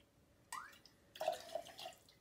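Vanilla vodka poured into a cocktail shaker for an orange espresso martini, heard as a faint, close trickle and splash that starts, pauses briefly, then resumes.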